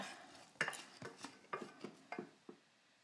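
Caramel popcorn being stirred in a metal pot, a series of about eight clinking, scraping strokes of a utensil against the pot, quiet and close, irregularly spaced, with no voices.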